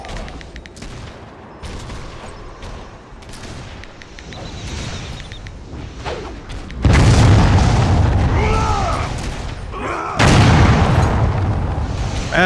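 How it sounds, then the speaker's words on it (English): Spell explosions from bright wizards in the Warhammer Online video game, a dense barrage of booms and crackling blasts that grows much louder midway, with shouts and effects layered in the fray. "explosions from the bright wizards"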